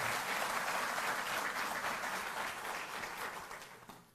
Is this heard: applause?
yes